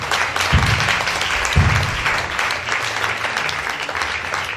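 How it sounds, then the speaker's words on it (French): Church congregation claps loudly and steadily for several seconds, a dense, even crowd applause with a couple of low thumps near the start. "Je vous prie d'acclamer encore le Seigneur pour acclamez fort pour le Seigneur."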